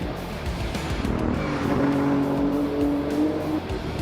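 A BMW M4 race car screaming along in Automobilista 2 during an IMSA series race, with a loud, continuous engine drone and a rising tonal whine, with tire noise underneath and no pause throughout.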